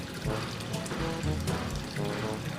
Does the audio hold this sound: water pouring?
yes